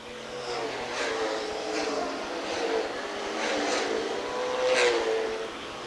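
Stock race cars lapping Rockford Speedway at a 1996 Saturday night short-track race, engines droning and swelling as packs pass at a distance, a steady roar with rising and falling pitch.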